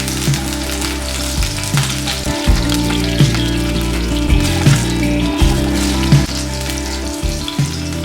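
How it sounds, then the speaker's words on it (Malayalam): Slit green chillies and garlic sauté in hot oil in a pan for palak mutter, a loud, close sizzle with a regular pulsing rhythm from repeated stirring strokes throughout. "2 പച്ചമുളക് നെടുകെ കീറിയത്, കുറച്ച് വെളുത്തുള്ളി ഇത് ചേർത്ത് നന്നായി ഒന്ന് വഴറ്റി കൊടുക്കാം."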